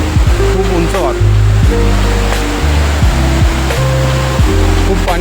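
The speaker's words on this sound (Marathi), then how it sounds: "जोरात पाऊस झाला ना, हा धबधबा खूप उंच वाहतो." A high waterfall at Malshej Ghat runs swollen after heavy rain, its steady loud roar of rushing water filling the whole span while a voice talks over it.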